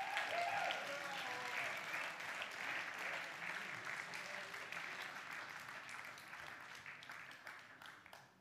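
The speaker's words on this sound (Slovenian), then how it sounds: "Prosim en velik aplavz za našo strokovno komisijo." An audience in a hall at a youth singing competition final applauds the expert jury, a broad wash of clapping that starts full and slowly thins and fades away.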